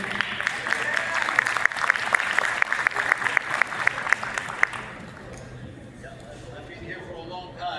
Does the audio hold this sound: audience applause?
yes